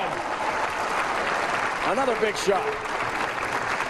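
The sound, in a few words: bowling fans cheering and applauding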